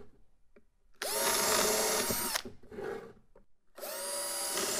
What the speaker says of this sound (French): Prépercez sur cette ligne vos trous de vis